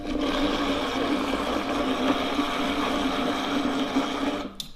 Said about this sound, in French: il chauffe, il met un petit coup de mixeur de temps en temps, il va obtenir la texture que l'on souhaite